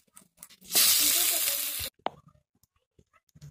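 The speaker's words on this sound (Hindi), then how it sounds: "अभी ये टमाटर जो हमने काटे हुए थे इस तरह से इसको ऊपर डालते जाएंगे इसके" Chopped tomatoes hit a hot pan of frying tomato and garlic with a loud burst of sizzling that lasts about a second, then settles into faint crackles, with a voice talking around it.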